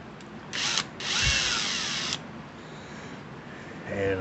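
A buffing wheel polishes a shotgun bolt carrier in two loud close bursts of high whirring with a pause between them, followed by a fainter hum of the motor.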